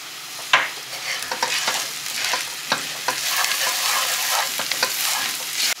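Green beans and potatoes being stirred with spices and salt in a hot pan, a close crackling sizzle broken by repeated scraping and clacking of a spoon against the pan.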